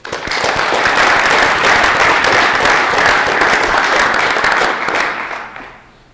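An audience welcomes a speaker at a financial literacy event with steady, dense applause that starts at once, holds loud for about five seconds, then fades away.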